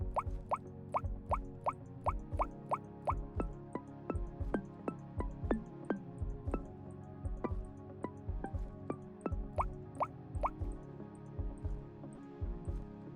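A run of watery plop and drip effects from GeoGuessr when a guess lands in the ocean, sounding as a steady series of bright, evenly spaced droplet pings over a low musical background, with no talking.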